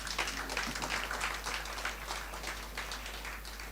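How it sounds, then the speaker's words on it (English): A hall audience at an ex-soldiers association fundraiser gives a sustained round of applause, dense clapping that stays steady and fairly loud before easing slightly. "Give them a big round of applause."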